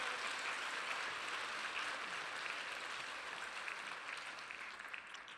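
Applause for Andrea Williams at a gospel conference in the UK: a steady wash of clapping from a large audience, fairly faint and distant, continuing evenly for several seconds.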